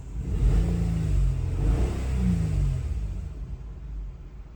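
A misfiring car engine is revved, its rough, uneven roar rising and falling through two or three surges before settling back toward a faltering idle, close and loud.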